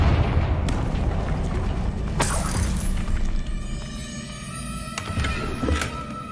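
A Confringo fire spell explodes in Hogwarts Legacy with a loud booming, shattering blast over a rumbling battle din. Sharp cracks follow, and the noise thins toward the end.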